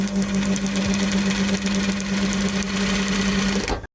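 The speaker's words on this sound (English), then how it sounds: "That's not me heavy breathing. Apologies for the dog." A dog breathes heavily with rapid, rhythmic panting close to the microphone. The sound is steady and continuous over a low hum, then cuts off abruptly at the end. No one speaks.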